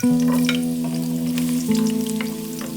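Garlic frying in warm oil for spicy Sichuan-pepper chicken wings, a loud, close, continuous sizzle over a steady low droning hum.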